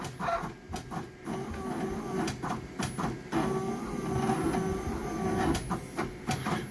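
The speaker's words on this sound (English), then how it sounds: "Now it's going to cut the last set of four." A Primera LX610 color label printer cuts labels, giving a continuous mechanical whir and hiss punctuated by repeated sharp clicks and motor shifts, close and steady throughout.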